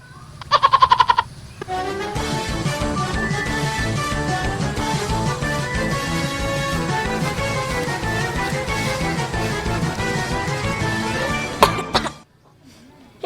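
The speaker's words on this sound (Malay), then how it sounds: "Ngapa ya batuk aku ni? Tak hilang-hilang." A few quick coughs sound at the start, then loud music with a steady beat takes over and plays to the end.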